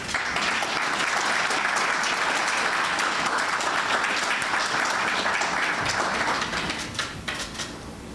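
Sustained applause from an audience at an investiture ceremony for a global president of a chartered institute, steady and full for about seven seconds before thinning out toward the end.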